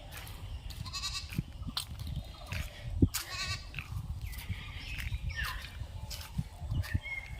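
Goats bleat repeatedly in a garden beside rice fields, several overlapping calls rising over steady outdoor background noise, with a few faint bird chirps mixed in.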